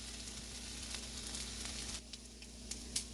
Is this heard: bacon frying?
yes